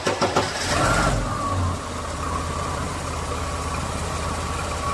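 A Lada car engine cranks and catches with a loud burst of starter noise in the first second, then settles into a steady, even idle that runs on alone.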